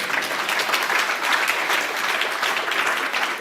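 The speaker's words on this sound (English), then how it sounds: "please clap" An audience at a lecture on fermentation microbiology claps in a continuous, even burst of applause, moderately loud and close, with no talk over it.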